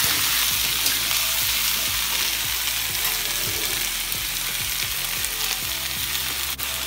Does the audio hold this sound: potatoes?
yes